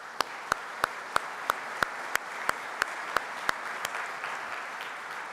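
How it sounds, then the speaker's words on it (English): Sparse, fairly quiet clapping at the Quantum Flagship kickoff event in Vienna: about a dozen distinct, evenly spaced claps that thin out and fade toward the end, heard alone in a hushed room. "I think this also deserves an applause."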